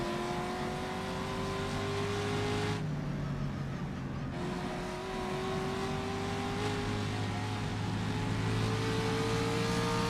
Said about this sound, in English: Hard on the brakes in the Ferrari.